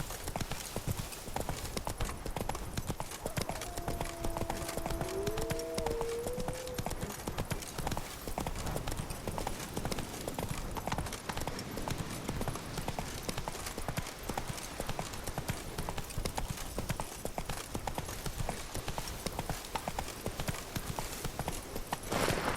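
Roach, Geralt's horse in The Witcher 3: Wild Hunt, gallops in a steady, loud clip-clop rhythm for the whole stretch, with a brief voice passing faintly over the hoofbeats.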